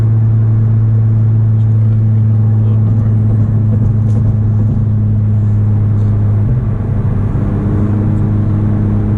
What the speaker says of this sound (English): Gradually ease into the throttle.